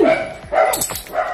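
An F1B standard goldendoodle barks close and loud during grooming, giving several short barks and yips in quick succession over about a second.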